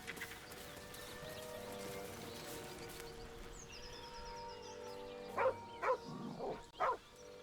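A dog in the woods in a video game barks several times in quick succession near the end, loud and close, after a stretch of quiet outdoor ambience.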